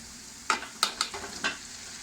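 Pasta tipped into a pan of cooked masala with carrots and beans and stirred, with a few quick scraping clinks over a soft continuous sizzle, no talking.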